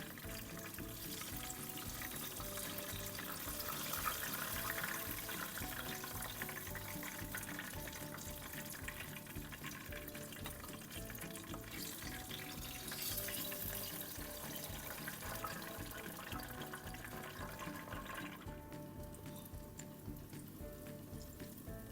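Battered banana pieces and sweet potato slices deep-frying in hot oil, a dense continuous sizzle and bubbling hiss that holds steady throughout, with no talking.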